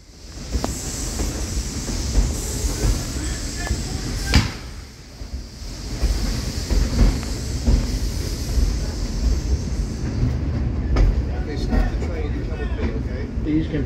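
A train on the Northern Central Railway during a Civil War reenactment rumbles and clatters steadily, with a sharp bang partway through, while people talk over the rail noise.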